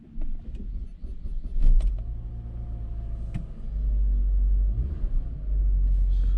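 A 2002–2005 Saab 9-5 with a sticky alternator cranks and fires up, its engine settling into a deep, steady idle rumble with a revving surge, recorded close in a garage setting.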